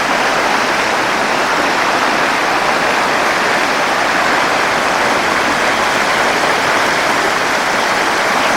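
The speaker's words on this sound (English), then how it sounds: "You see how the river pours through here now. Tremendous drop down this set of rapids." A river rushing down a steep set of rapids in mahseer fishing country, a loud, steady roar of white water that stays constant and close throughout, with no voices.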